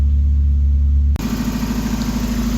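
A turbocharged Mazda Miata engine idles loudly close by, a steady rumbling thrum whose tone shifts briefly partway through, then settles back into its even idle.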